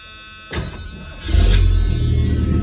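A car engine cranks and catches after a quiet moment, a short whirring starter burst followed by a loud, steady low idle rumble close by.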